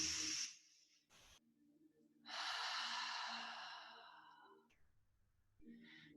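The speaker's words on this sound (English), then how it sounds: "taking one more big, deep inhale" A deep, long inhale at the close of a guided meditation class. A short sharp intake is followed by a full, sustained breath drawn in close and soft, then a faint exhale.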